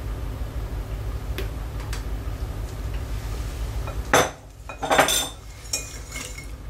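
A honey and propolis soap mixture is stirred by hand in a container, giving soft steady scraping with light utensil clinks and a few louder knocks against the sides.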